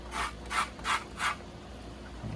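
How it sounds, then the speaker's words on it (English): A lemon is scraped across the small-holed side of a metal grater for zest, four quick, evenly spaced rasping strokes heard up close, with no talking. "just take the smaller end of your grater, and you're gonna be able to scrape out some of that zest"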